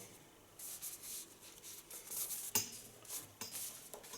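Soft, repeated scraping strokes of a knife cutting hair freehand, close and quiet, with a sharper snip partway through.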